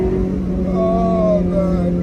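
A 2007 Honda S2000's engine drones steadily and climbs in pitch as it revs past 3,000 RPM into VTEC, the rising whine of the upper rev range cutting through a constant low rumble.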